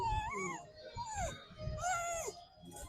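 A dog whimpers in high, wavering whines over several seconds outdoors on a street, with people talking nearby.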